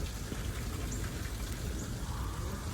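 Steady, faint rain falls on a street in Montreal, Canada, a soft continuous hiss with no voices.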